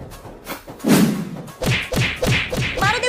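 Thuds of people beating a man mistaken for a thief, several dull blows landing in quick succession, close and fairly loud, with a short sharp impact first and then a rapid run of hits.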